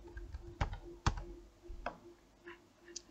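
Typing on a computer keyboard: a few separate, close key clicks and taps, spaced irregularly against a quiet background hum, with no voices.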